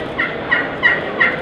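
A turkey call imitating a gobble, four quick rattling gobble notes in a row, close and clear.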